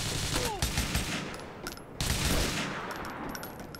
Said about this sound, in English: Why does it seem like I'm shooting everyone?